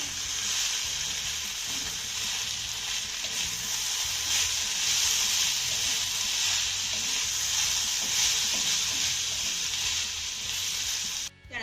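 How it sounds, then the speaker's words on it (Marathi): Grated raw potato thecha cooking in a covered pan over a low flame, giving a steady, close sizzling hiss that holds evenly throughout, with no voices. "लो फ्लेमवरती आपल्याला हा बटाटा तीन ते चार मिनटं चांगला शिजवून घ्यायचा आहे"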